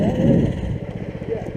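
An off-road tractor's small engine revs briefly and then settles into a rough, pulsing idle close by, with a voice speaking over it.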